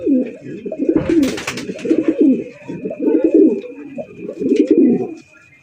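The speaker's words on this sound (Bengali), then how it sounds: "একদম দর্শক বন্ধুরা মাত্র 1200 টাকা কিন্তু হাই ফ্লাইং গিরিবাজ কবুতর পাইতেছেন" Male high-flying Giribaj pigeons at a farm coo loudly and close in a run of about five throaty, rolling bursts separated by short pauses, with no talking over them.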